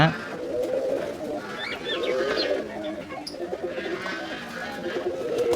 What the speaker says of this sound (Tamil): கிட்டத்தட்ட ஐநூறு ஜோடி புறாக்கள் மேலே இருக்குது